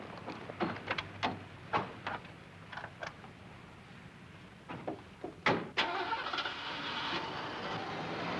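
A car in a 1970s rural scene: door thumps and clunks, then an engine turns over and starts, settling into a steady running rumble as it pulls away, moderately close.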